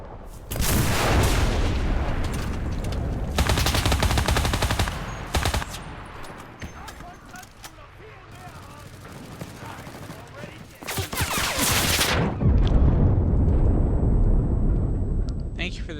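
Gunfire and explosions from a strafing run in a first-person shooter game: loud, dense, continuous rattling fire and booms that dip briefly in the middle, then surge again, with a voice talking over it.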